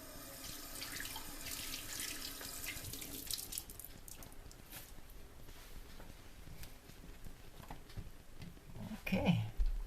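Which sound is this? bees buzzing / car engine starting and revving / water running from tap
water running from tap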